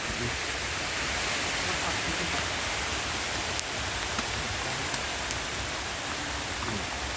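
Steady rain falls outside a house, a dense even hiss with occasional faint drips and ticks, continuous and moderately close, with no talk over it.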